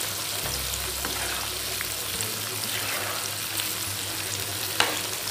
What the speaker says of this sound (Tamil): நல்லா பொறுமையா செய்யணும் அப்பதான் நல்லா டீப் ஃப்ரை ஆகும் நல்லா வேகும் அந்த மசாலாவோட